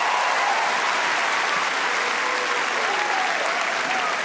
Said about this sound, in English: Round of applause for Harley.